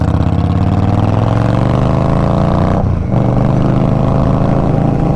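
A 2023 Indian Scout Rogue motorcycle engine holds a smooth, steady drone at highway speed under constant wind rush, with one brief dip partway through.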